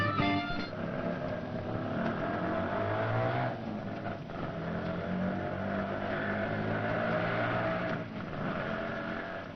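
A car drives along steadily, its engine and road noise a continuous close drone that swells slightly around the middle and end, with no voices over it.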